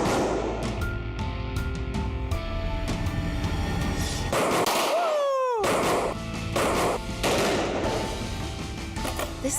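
Gunshots fired outdoors as part of a criminal-investigation forensic test ring out as a series of sharp, loud reports and echoing cracks, spaced irregularly over several seconds with a brief quiet gap in the middle.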